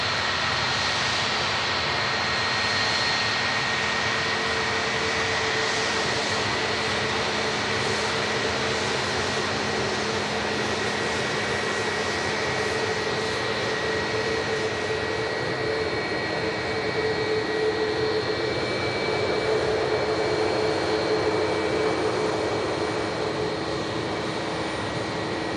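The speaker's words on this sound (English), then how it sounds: "Aer Lingus 330 now on the taxi out as well" An Aer Lingus Airbus A330 jet taxis out at an airport, its engines giving a steady, continuous roar with a high whine running through it, fairly close and unbroken for the whole stretch, with no voices over it.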